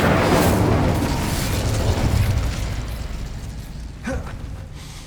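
A fire spell cast in the video game Hogwarts Legacy: a loud, broad whoosh and roar of flame that fades over several seconds, with a small pop near the end.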